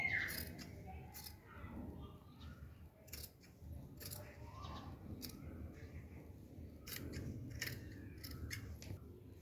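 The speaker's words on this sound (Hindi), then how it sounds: "अब देखो मैं इसकी ऐसे ही कटिंग कर लूँगी" Scissors cutting heavy embroidered blouse fabric, with crisp snipping strokes in irregular bursts, close and quiet, over faint background noise.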